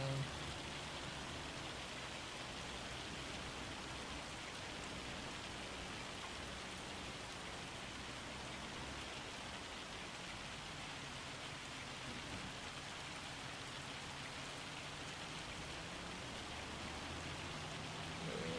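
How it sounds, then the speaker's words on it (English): Hail pelting down in a farming simulation video game, a dense, continuous rattling hiss that stays loud and uniform for the whole stretch, with faint rumbling underneath and no pauses. "I think that's hail."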